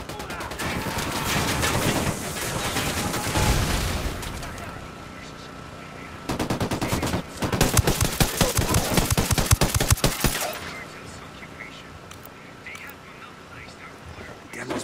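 Automatic gunfire from Ghost Recon Wildlands, with dense bursts of rapid shots in two heavy volleys separated by a short lull, then a quieter tail of scattered sounds. A voice speaks briefly under the shooting.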